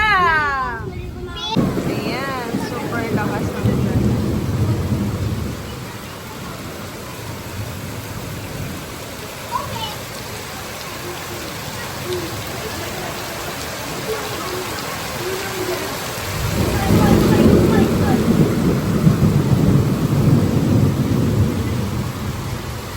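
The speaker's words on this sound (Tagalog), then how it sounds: "lakas ng ulan at saka may kasamang kulog at kidlat" Heavy tropical rain pours down with rolls of thunder, a dense steady roar with rumbling swells near the start and again toward the end, and voices talking faintly beneath the downpour.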